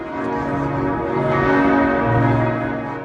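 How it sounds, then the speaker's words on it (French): Church bells across Europe ring at noon in solidarity after the Notre-Dame de Paris fire, with rich, overlapping tones, their loud resonant hum swelling and sustaining throughout. "À midi, les cloches ont retenti dans toute l'Europe en signe de solidarité."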